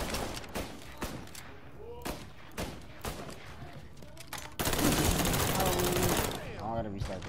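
Gunfire in the Mafia 3 video game, sharp shots scattered through the clip with a dense burst of rapid fire near the end, mixed with game sounds and a voice talking.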